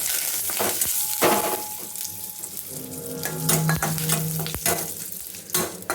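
Urad dal and curry leaves sizzle and fry steadily in a pan, close up, with repeated stirring scrapes and light clinks of utensil against pan.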